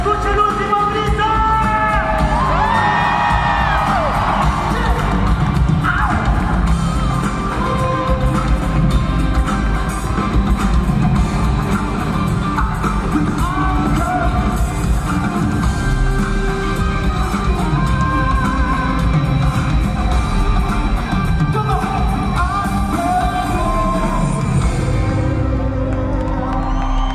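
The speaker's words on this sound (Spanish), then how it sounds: "¡Y que se escuche el último grito!" A packed crowd at Arena Monterrey shouts, whoops and cheers loudly and without a break, with individual yells rising above the continuous roar throughout.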